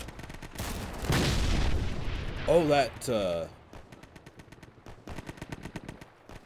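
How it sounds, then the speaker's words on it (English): A big railroad cannon firing in the video game Easy Red 2 during the Battle of Anzio campaign, heavy booms mixed with bursts of gunfire, while someone talks over it. "that big railroad cannon is firing off"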